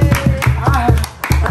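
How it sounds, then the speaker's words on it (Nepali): Quick, steady hand claps close by at a festive Tihar gathering, with voices talking over them. "ताली"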